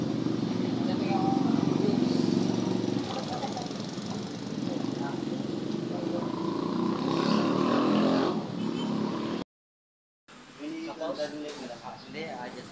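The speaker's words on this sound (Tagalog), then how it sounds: "Yan ang motor ni Utol." A motorcycle engine revs close by at a repair shop. A loud, sustained engine roar rises and falls under people talking, then cuts out briefly before quieter sounds resume.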